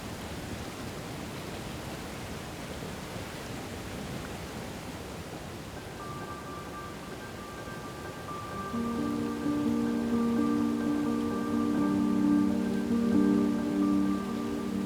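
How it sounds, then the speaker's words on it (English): Steady hiss of rain falling through the night at a mountain shelter in Seoraksan, with a sustained tonal hum joining partway and growing louder toward the end. "The rain keeps falling through the night."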